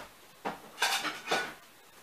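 A plate is lifted out and set down in a kitchen while making chicken and dumplings, giving three close ceramic clinks and clatters in quick succession with no talking.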